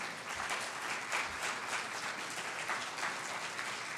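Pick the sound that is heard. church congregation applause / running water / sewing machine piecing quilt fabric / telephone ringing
church congregation applause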